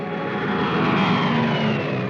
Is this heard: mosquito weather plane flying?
yes